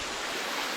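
A waterfall along the Angel Falls hiking trail at Lake Rabun pours with a steady, even rush of broadband water noise, close and unbroken for a brief moment with no voices.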